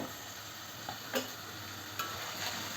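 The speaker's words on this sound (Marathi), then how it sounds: "मिडियम गॅसवर त्याला आपल्याला चांगलं फ्राय करायचं आहे चांगला परतवायचा आहे कांदा याला हलवूयात आता" Onions fry steadily over medium heat in a pan, a soft continuous sizzle broken by a couple of quick scraping stirs, while preparing a goat intestine vajri masala; no talking.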